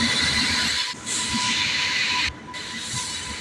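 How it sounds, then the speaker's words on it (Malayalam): A Mumbai–Bangalore express train rolls slowly into a station platform, giving a steady, loud rumble of wheels and rail noise with a hissing wash on top and brief dips, with no voices. "ട്രെയിൻ ഒന്നാമത്തെ പ്ലാറ്റ്ഫോമിലേക്ക് സാവധാനം വന്ന് നിന്നതോടുകൂടി"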